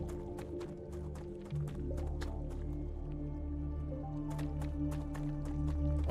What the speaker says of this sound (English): Oh, it's water sound. I was hearing water